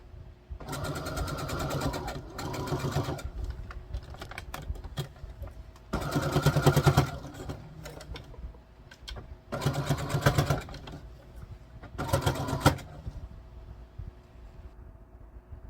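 Sewing machine stitching an upcycled shawl into a skirt, running in several bursts of rapid, buzzing stitching separated by brief pauses and quieter handling, fairly close and loud with no talking.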